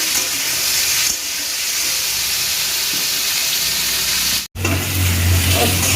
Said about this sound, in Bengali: কষিয়ে একটু ভাজা ভাজা করে নিতে হবে